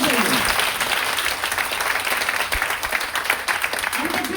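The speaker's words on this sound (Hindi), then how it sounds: "एक बार जोरदार ताली हो जाना चाहिए।" Loud, dense applause from a seminar audience in a Hindi-speaking hall, continuous clapping filling the room without a break, close and full from start to finish.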